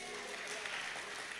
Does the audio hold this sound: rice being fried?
no